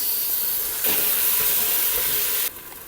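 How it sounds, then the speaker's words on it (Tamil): Ginger, garlic and onion fry in a pan for chicken dum biryani, giving a steady broadband sizzle that swells louder midway and then settles back, with no one talking. "இந்த இஞ்சி பூண்டு நல்லா ஃப்ரை பண்ணிவிடுங்க இந்த ஆனியன் கூட சேர்த்து"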